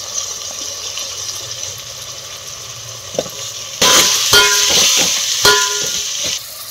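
Onions and ivy gourd hit hot oil with browned garlic paste in a pan, a low sizzle swelling into loud, steady frying with a few stirring clatters.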